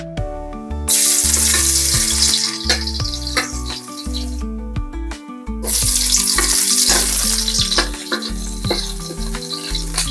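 Ingredients for lechon manok paksiw sauté in hot oil with a loud, crackling sizzle that swells in two long bursts separated by a short pause, over steady background music.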